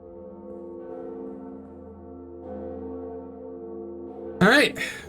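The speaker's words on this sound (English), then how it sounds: "All right, bell number 2 successfully rang." A single church-style bell from the Dark Souls video game strikes loud near the end, its ring dropping off fast, after a long stretch of low sustained game music and ambience with faint talk underneath.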